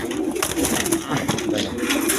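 Domestic pigeons, including cocks of a short-beaked fancy breed, cooing in a loft amid continuous noisy background bustle, the soft calls overlapping and close.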